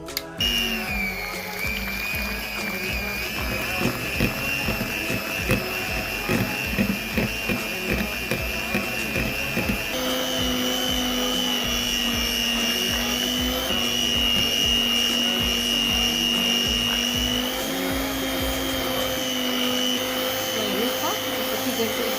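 An electric mixer beating chocolate cake batter whirs steadily and continuously for a long stretch, its motor pitch shifting partway through, with a rattling mechanical edge.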